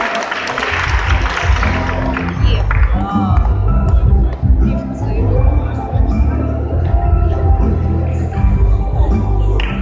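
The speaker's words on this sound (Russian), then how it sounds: "Давайте встретим их бурными аплодисментами" Concert audience in a Bendery house of culture applauding a youth delegation, loud sustained clapping with some cheering from a large crowd, continuing for about ten seconds.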